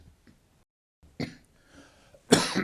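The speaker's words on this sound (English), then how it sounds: "I'm going to cough." A couple of short, harsh coughs close to the microphone, the second louder, separated by quiet breathing and a faint throat sound.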